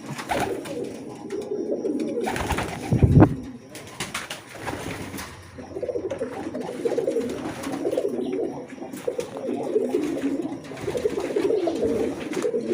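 Several racing pigeons coo continuously in low, throaty rolling calls, close and fairly loud, with a brief burst of flapping or rustling near the start.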